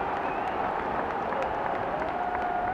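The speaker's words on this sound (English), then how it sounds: "The applause behind us because Antonio" A football stadium crowd applauds during a match, a dense, steady wash of clapping and crowd roar that holds at an even level throughout with no break.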